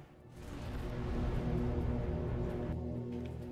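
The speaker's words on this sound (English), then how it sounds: "That was just kind of an explosion." A rumbling explosion sound effect from a Halo 3 mod game builds and holds as a dense, low roar for a few seconds before tapering off.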